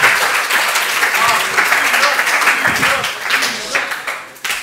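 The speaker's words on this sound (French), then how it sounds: "applaudissez-le quand même" Audience applause fills a running conference hall, a dense, steady clapping from many hands that carries on for several seconds and thins slightly near the end, with voices faintly mixed in.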